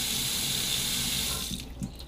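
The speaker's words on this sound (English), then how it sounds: "we're just going to take some tap water out here" Tap water runs from a faucet in a steady, close rush that fades and tapers off near the end, followed by a couple of small splashes.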